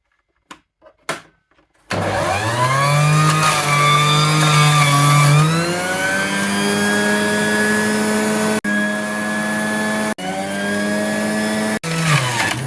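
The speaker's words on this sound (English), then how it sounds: "Put my pineapple in my juicer machine." A juicer machine grinds pineapple with a loud, continuous whine that starts abruptly after a few knocks, shifts pitch as fruit feeds through and briefly cuts out twice, close and alone.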